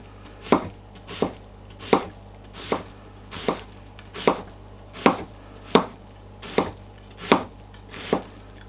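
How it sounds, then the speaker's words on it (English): A Ninja Stay Sharp knife chops food on a board in steady, evenly spaced strokes, about a dozen crisp thuds close up with a faint hum behind. "you can see how nice and fine you can get your chopping with the Stay Sharp knives"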